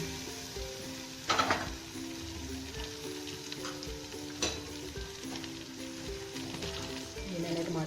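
Red chilies, salt, turmeric powder and green chilies frying in hot oil for a curry tempering, a steady soft sizzle with a few sharper crackles and spatters, under occasional speech.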